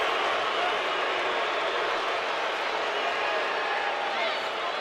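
A crowd at a basketball arena during an NCAA March Madness game between Samford and Kansas keeps up a dense, steady roar of disapproval after a call, loud and unbroken throughout.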